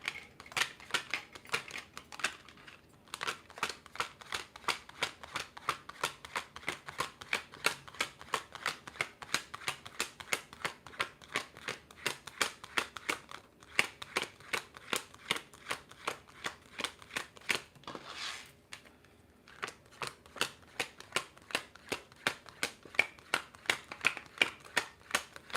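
A deck of tarot cards is shuffled over and over, with fast riffling bursts of sharp card clicks that run steadily and close for the whole stretch, broken only by brief pauses.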